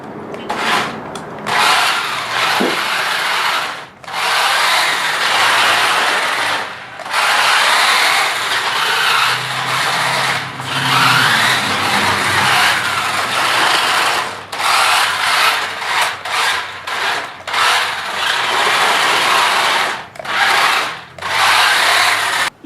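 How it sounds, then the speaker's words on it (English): A New Bright RC Monster Jam Grave Digger toy truck drives in a stadium setup, its electric motor and gears whirring and ratcheting loudly and almost continuously, with brief cut-outs and bursts as it accelerates, stops and reverses. "You have just watched me drive Grave Digger"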